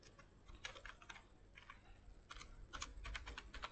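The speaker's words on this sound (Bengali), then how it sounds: "এখানে লিখব মিস্টার স্বপন" Rapid clicking keystrokes on a computer keyboard as a name is typed into a YouTube search box, arriving in quick uneven bursts, close and quiet, with no talking.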